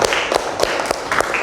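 Applause from a gathered audience at a closing of an Indonesian Islamic education presentation, a steady patter of many hands clapping with a few sharper claps standing out, moderately close.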